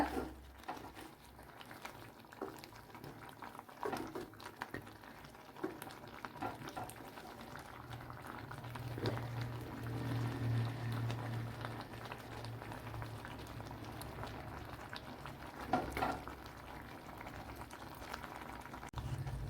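Pumpkin simmers in its own released juices in a cooking pot, bubbling and popping steadily with soft liquid patter and occasional light clinks, heard close and alone.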